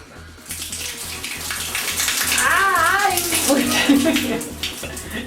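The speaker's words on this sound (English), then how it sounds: "It's basically a hose with cold water." Cold water running from a basic hose at a budget motorcycle campsite on an Alaska-to-Argentina BMW R1100 GS trip, a steady close splashing hiss throughout, with voices talking over it.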